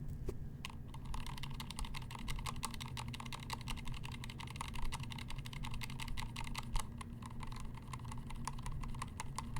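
Continuous fast typing on a keyboard fitted with NovelKeys Silk and Dry series switches, a dense run of close, crisp keystroke clicks with no pauses for several seconds.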